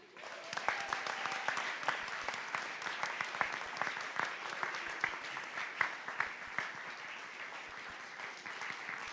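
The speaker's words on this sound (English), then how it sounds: "quick round of applause for Fabric and for Ian." A crowd at a church service gives a quick round of applause, with many individual claps audible as sharp, irregular hits in a steady patter that carries on for several seconds.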